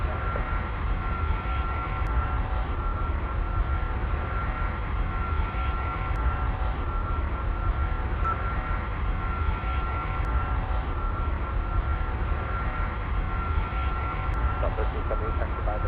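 Steady, continuous roar of a Boeing MD-90 airliner landing at Guangzhou International Airport, its engine noise filling the cabin at an even level throughout, with faint voices underneath.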